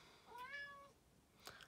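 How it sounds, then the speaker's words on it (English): A pet cat lets out a single clear, drawn-out meow close to the mic, followed a moment later by a brief, fainter chirp-like call. "My cat's just saying hello to you."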